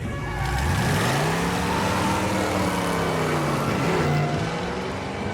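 Car driving off in a scene from the film Death Proof, its engine revving up with rising pitch, loud and close, then settling into a steady drone.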